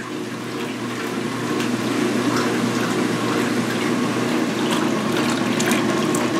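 A 2016 Speed Queen washing machine runs with cold water and towels inside, giving a steady, fairly loud mechanical churn and sloshing hum that holds throughout without speech.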